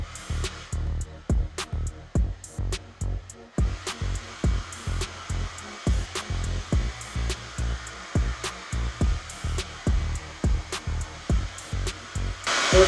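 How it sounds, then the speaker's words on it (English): A hair dryer blown over wet fluid-art paint, heard as a steady motor whir repeatedly interrupted by regular thumping clicks, close and moderately loud, with no talking. "So let's go grab the hairdryer."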